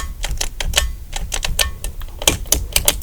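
Buttons and switches on a fidget board toy click close to the listener in quick, irregular bursts of crisp, sharp snaps with short gaps between them, and no voices.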